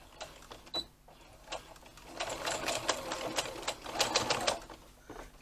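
A sewing machine top stitches across the top edge of a tote bag, with quiet clicks at first, then short bursts of rapid mechanical stitching that swell and fade, fairly soft and close.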